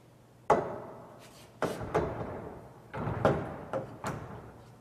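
Sliding door for a SubZero dual sliding door setup set onto its header track, producing a series of sharp knocks and thuds, about six impacts spaced irregularly with short rattling decays, close and fairly loud.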